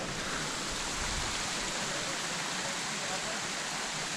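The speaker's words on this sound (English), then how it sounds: "There's our first waterfall of the day." A waterfall pours in a steady, even hiss of falling water heard from a moderate distance, with no other sounds standing out.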